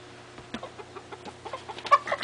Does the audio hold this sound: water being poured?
no